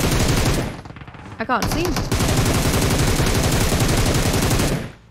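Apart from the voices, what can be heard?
gunfire in a shooter video game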